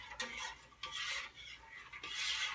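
Simple syrup stirred in a pot on the stove, a spoon rasping and scraping against the pot in three soft, rhythmic sweeps, close and quiet with no talk.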